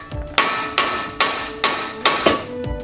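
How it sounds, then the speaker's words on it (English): Hammer blows strike a ball joint on the suspension of a 2000 BMW Z3, five sharp metallic impacts at a steady rhythm, loud and close with short ringing decays. "now I'll try to separate that ball joint and drop it down"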